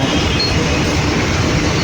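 Loud, continuous rumble and clatter of a train rolling past close by at Yesvantpur railway station, steady throughout with no talking.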